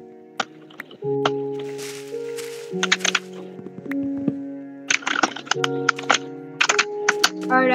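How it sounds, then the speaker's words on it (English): Keyboard typing clicks in a Minecraft survival game, short sharp taps in irregular bursts laid over steady musical tones, with a voice talking at times. "Is that supposed to be a keyboard?"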